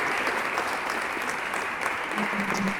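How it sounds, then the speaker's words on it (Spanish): Steady applause from an audience opening a school sexual-education event, a dense, even wash of many hands clapping throughout with no talk over it. "le dejamos un fuerte aplauso"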